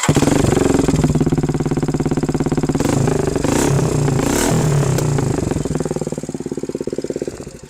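A Suzuki GR150 motorcycle converted to a 250cc engine revs loudly and steadily up close, with a throaty rumble that rises in bursts, then settles and fades toward idle.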